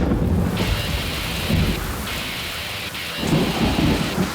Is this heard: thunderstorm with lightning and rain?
yes